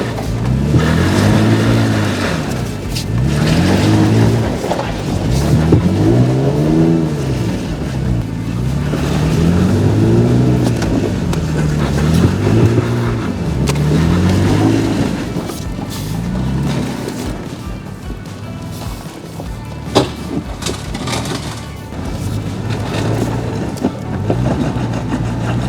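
An off-road vehicle with a rear locker and the front unlocked labours up a steep climb, its engine revving in repeated rising and falling surges, loud and close, with tires spinning and a few knocks and bumps toward the end.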